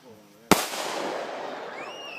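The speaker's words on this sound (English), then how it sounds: "That little one makes a whole lot of noise." A single sharp bang from a small firework goes off up close, followed by a long crackling, hissing tail that slowly fades out.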